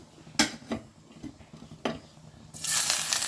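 Ginger, onion and chilli hit hot oil in a pan for paneer chilli manchurian, with a few sharp clinks of a spoon against the pan before a loud, steady sizzle takes over near the end.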